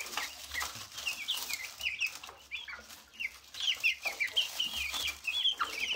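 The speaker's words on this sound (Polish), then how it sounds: "Kurczaki wyskakują mi stąd." Several young green-shell-laying chickens clucking and chirping softly nearby, a busy scatter of short calls over a quiet background.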